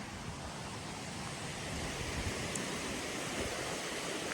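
Flash flood water rushes steadily during Hurricane Lee, a dense, continuous roar of flowing water that stays loud and even with no pauses and no talk.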